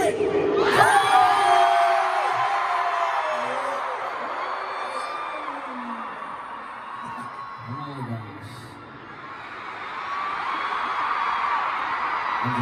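A large crowd screams and cheers at a stadium concert in Las Vegas, a dense roar of high-pitched shrieks that swells at the start, dips, then builds again, with a voice speaking over it.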